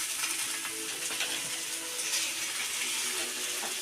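Bangda fish fry in hot oil with a dense, steady sizzle and crackle, close and fairly quiet throughout.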